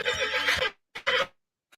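Horses neighing loudly and close: a long whinny, then two quick cries after a short pause, and a faint brief call at the end.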